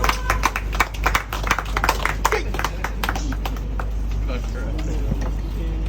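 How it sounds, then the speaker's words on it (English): Workshop participants at a sculpting session clap in a loose, uneven burst that fades into scattered claps, heard close with a low steady hum beneath and some voices in the room. "A round of applause."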